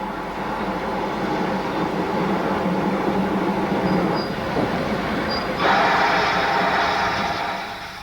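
A post-war Castle-class steam locomotive hauls the Bristolian express with a steady, close rolling rumble that grows brighter and louder partway through before easing at the end; no voices.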